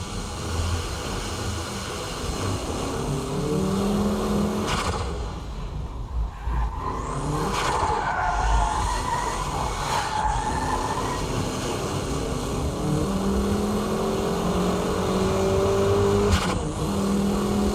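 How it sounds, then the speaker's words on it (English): A modified Nissan S14 performs a high-speed braking drift on a track, its engine revving hard under long, loud tire squeals that rise and fall through the corner. "I'll demonstrate the braking drift with this K-Office S14."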